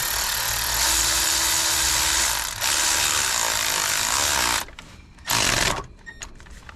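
A Milwaukee power ratchet tightens a spark plug on a 2008 Subaru Forester, giving a loud, steady motor whir for about four and a half seconds, then a short pause, one brief burst and a few faint clicks.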